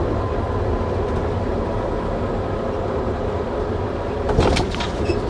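A freight or passenger train rumbles past steadily at a crossing with electronic red lights, a continuous low roar of wheels and cars, with a brief metallic clatter and squeal near the end.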